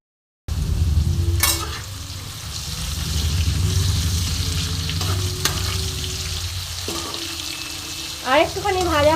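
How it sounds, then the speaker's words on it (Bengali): Mixed vegetables, seasoned with turmeric and salt, fry and sizzle loudly and steadily in a pan for a chicken and lentil dish, with occasional stirring clatter and a faint voice. "সবজিগুলো একটু ভেজে নিলে খেতে ভালো লাগবে।"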